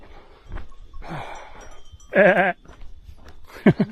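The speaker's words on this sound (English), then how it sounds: "Can I pet that goat?" A goat on a mountain hiking trail gives one loud, wavering bleat amid quieter rustling and soft shorter animal sounds, close by, with no talk.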